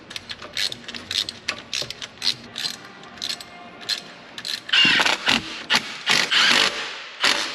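A socket ratchet clicks in quick bursts while running new spark plugs into a Jeep engine, close and loud, the rhythmic pawl clatter growing harsher and faster in the second half, with no speech.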